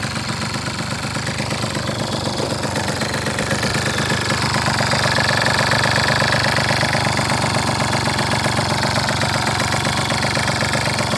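A small dirt scooter's engine runs steadily and loudly nearby with a rough, knocking idle that holds an even tone throughout, with no voices.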